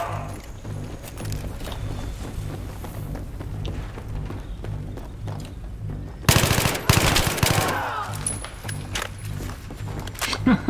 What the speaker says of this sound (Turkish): Birileri ateş ediyor bu arada.